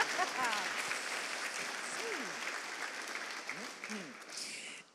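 An audience at a live award show claps in steady, dense applause that fills the whole stretch and thins slightly at the end, with a voice briefly heard over it.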